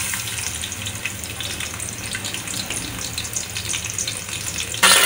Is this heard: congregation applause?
no